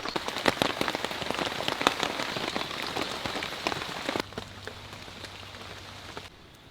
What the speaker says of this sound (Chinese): 天都还没亮就开始下雨